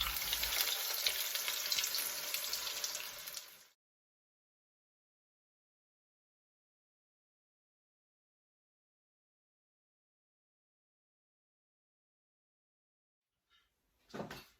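Cold chips dropped into hot oil in a fryer, giving a loud, bright crackling sizzle for a few seconds before it cuts to silence, with a short clatter at the very end.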